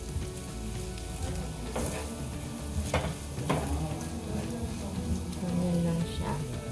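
An egg fries in a pan after being seasoned with salt and pepper, giving a steady close sizzle with occasional scraping stirs; a person talks softly over it.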